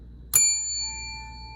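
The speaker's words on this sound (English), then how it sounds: "what happens when I ring the bell the second time" A bell is rung once in a sound-energy classroom demonstration, giving a single sharp strike followed by a clear, pure ringing tone that holds and slowly fades, close and alone in a quiet room.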